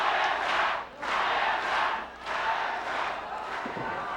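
A wrestling crowd at an FMW event chants Hayabusa's name in loud, rhythmic waves that rise and fall across the arena, filling the space.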